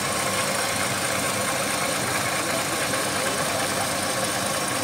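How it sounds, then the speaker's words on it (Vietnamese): Steady idle of a Mitsubishi Pajero V43 engine, a continuous smooth close-up drone with a faint even rumble and no other sounds throughout. "em để cho các bác nghe tiếng máy này"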